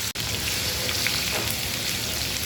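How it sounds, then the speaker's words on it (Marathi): A ground onion-tomato paste sautés in oil in a pan over low heat, giving a dense, continuous sizzle close by with one brief dropout near the start and no talking. "आपल्याला गॅस कमी करायचा आणि छान असं परतून घ्यायचं आहे आपल्याला वाटण तेलामध्ये"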